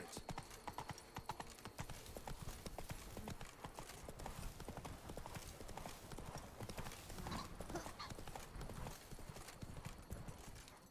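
Hooves of Roach, a horse in The Witcher 3 video game, clatter in a fast, continuous galloping rhythm, close but faint, with a soft whinny underneath.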